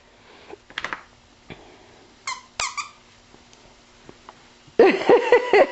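A squeaky toy alien is squeezed in scattered short squeaks, a few isolated chirps followed by a louder burst of rapid squeaking near the end, close by in a quiet room on Christmas morning.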